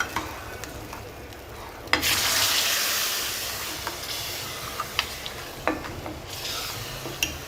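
Hot tempering of spiced oil is poured into yogurt kadhi in a pot, giving a sudden loud sizzle that fades into a soft hiss, with occasional sharp clinks of a spoon stirring against the vessel.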